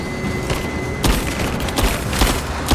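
Gunfire in the video game Rise of the Tomb Raider, a rapid, dense burst of loud shots with heavy recoil, sharper reports punching through around the middle and end over a continuous rumbling din.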